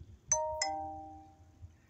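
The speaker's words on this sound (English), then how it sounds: "Y'all heard my phone say ding dong." A phone plays a two-tone ding-dong notification chime, two bright bell-like notes struck a moment apart and ringing out clearly in a quiet room.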